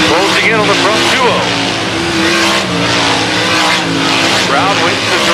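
Race cars roaring around a short oval track in a late-laps race, loud revving engines with sweeping pass-by pitch changes, a commentator talking over them.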